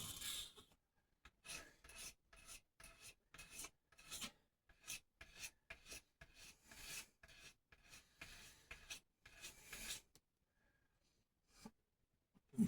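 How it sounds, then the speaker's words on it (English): A wood edge is sanded by hand with 600 grit sandpaper in quick, steady back-and-forth rasping strokes, up close and fairly quiet, for about ten seconds before it stops. "I'm just going to go right along the edge where I was sanding before with that 600 grit paper"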